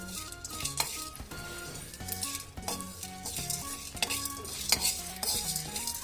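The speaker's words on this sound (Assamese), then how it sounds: "মই এটা কেৰাহী গৰম কৰি ইয়াতে অলপ 1 চামুচ গোটা জিৰা দিছোঁ। এইখিনি ভাজি ল'ম" Whole cumin seeds and black pepper fry in a hot wok, with a soft sizzle under repeated metallic clinks and scrapes of a spoon stirring against the pan.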